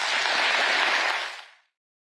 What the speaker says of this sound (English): That was Keir Starmer getting a very big round of applause